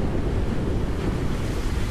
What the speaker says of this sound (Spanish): Un aguacero torrencial.